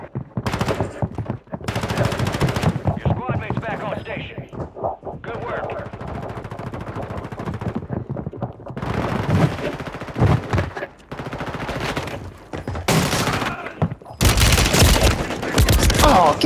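Automatic gunfire crackles through a chaotic video game shootout, with dense, loud bursts of rapid shots coming in waves and a voice talking over parts of the exchange.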